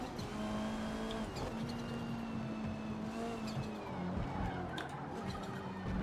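Race car tires squealing and skidding in the Forza Motorsport video game, a steady high whine held over continuous engine roar, close and loud for several seconds with no talk.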